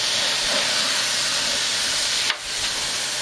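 Flat iron steaks sizzle on a preheated grill, a loud, steady hiss that fills the whole moment, with a brief sharper crackle near the end.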